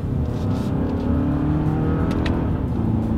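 A 2021 Lexus ES 250 accelerating onto a straightaway during a paddle-shifter test, heard from inside the cabin as a steady, loud engine drone that rises in pitch through the gears with no talking.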